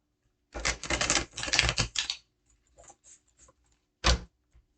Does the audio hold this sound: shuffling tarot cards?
yes